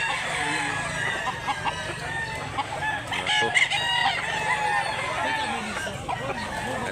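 Roosters crow and cluck throughout at a gamefowl farm in Mantalungon, Barili, Cebu, with calls overlapping at mid distance among steady outdoor noise, while someone speaks briefly.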